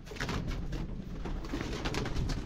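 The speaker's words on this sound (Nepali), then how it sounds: "कति धेरै चराहरू छ" Pigeons coo over a busy chorus of other birds at a resort in Sauraha, Nepal. The calls are continuous and layered at moderate loudness, with no talking.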